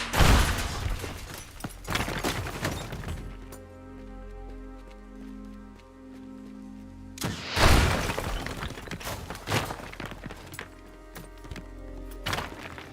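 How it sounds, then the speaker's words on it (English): Rubble smashing and breaking apart in the destruction game Teardown, loud crashing bursts at the start and again around the middle, with debris pieces clattering and thudding over a sustained low hum in between. "every piece of rubble sounds different based on its weight and material consistency"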